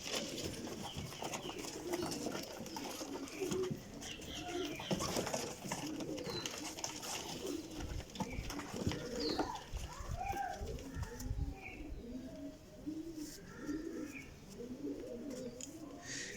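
Teddy Kasuri pigeons coo softly and repeatedly at close range in a pigeon loft, with rustling and clatter around them and someone talking at times.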